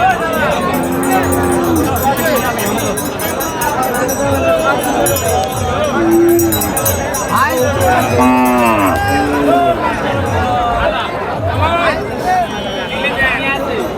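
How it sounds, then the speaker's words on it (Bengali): Heifer cattle of the Sahiwal breed low and moo repeatedly at a busy rural livestock market, several calls rising over a steady crowd murmur and nearby chatter, loud and close. "প্রচুর পরিমাণের বকনা গরু"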